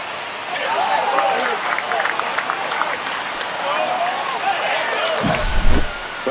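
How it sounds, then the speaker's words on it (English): Stadium crowd roaring after a home run in the baseball video game MLB The Show 25, a steady loud wash of cheering with a commentator talking over it and a brief burst near the end. "This crowd has really come alive."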